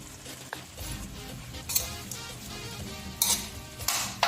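Sliced bitter gourd tipped into a hot pan of Ilocano pinakbet, crackling sizzle with clattering stirs and a few sharp utensil scrapes against the pan, close and without talk.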